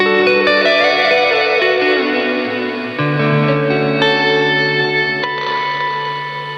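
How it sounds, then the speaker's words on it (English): Guitar played through an EarthQuaker Devices Afterneath reverb pedal set to a classic plate reverb voice, sustained chords ringing out with lush, smooth decay, loud and alone with no talking. "it's more of like a classic plate reverb."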